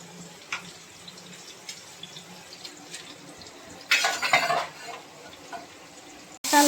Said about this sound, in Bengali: তেলটা গরম করে গোটা গরম মশলা আর তেজপাতা ফোড়ন দিয়ে পেঁয়াজটা লাল করে ভেজে নিচ্ছি।